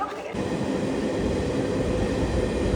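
A passenger train on the Samalkot to Tadepalligudem route rolls along with a steady, loud interior rumble that starts abruptly and continues without a break.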